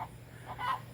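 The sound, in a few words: laying hens cackling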